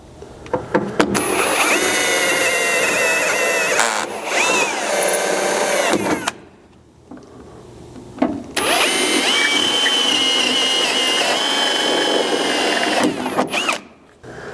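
A step drill bit bores a 1/2 inch hole through the bed of a second-generation Chevy Colorado pickup, loud whining power-drill bursts of several seconds each, with a brief pause between two long runs and no talking.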